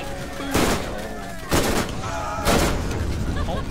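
Three loud, sharp bursts of Borderlands gunfire and explosions hit about a second apart over a busy background of game sound effects.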